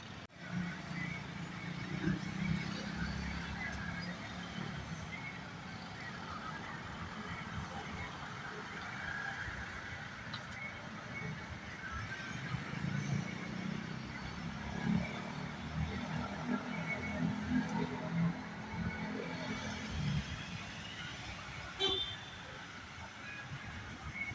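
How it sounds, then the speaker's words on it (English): Heavy city traffic with cars passing makes a continuous low rumble with swelling passes, fairly faint and distant, with voices mixed in. "heavy traffic area where you can hear all the cars"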